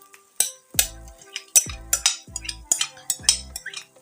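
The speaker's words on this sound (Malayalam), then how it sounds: "അപ്പോൾ നമുക്കൊന്ന് മിക്സ് ചെയ്ത് കൊടുക്കാം" A spoon stirring a bread and semolina mixture in a pan, producing sharp metallic clanks against the pan in a steady rhythm of about five strokes, close and clear with no talking.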